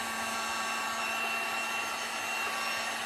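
A hair dryer blows on gold metallic painted sea shells with a steady, loud, unbroken whir and airy hiss that holds at one level throughout, with no talk.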